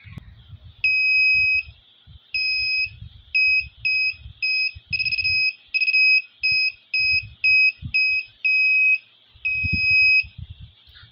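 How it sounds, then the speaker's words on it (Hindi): Arduino UNO ultrasonic distance alarm sounding a series of loud electronic beeps in an irregular, quickening pattern as a hand moves closer, with faint low rumble between the tones. "जितना हाथ इसके नज़दीक लाता जाऊँगा उसके अकॉर्डिंग इसकी बीप चेंज होती जाएगी"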